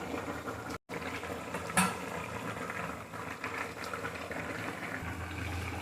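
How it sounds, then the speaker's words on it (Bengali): Curry bubbles and simmers in a wok on a gas stove, a steady close rush of liquid boiling with one brief dropout and a soft knock partway through; no one speaks. "একদম কড়াইতে টক করে ফুটছে"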